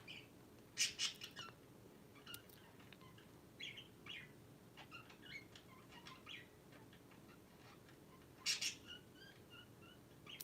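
A pet bird named Coco chattering at a mirror indoors, with scattered short chirps and squawky bursts, some louder peaks and quieter gaps between them, fairly faint overall.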